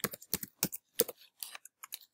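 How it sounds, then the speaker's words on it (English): A computer keyboard being typed on, giving a short burst of crisp key clicks in an uneven rhythm with brief pauses, close and clear against silence. "So we'll just type in something here."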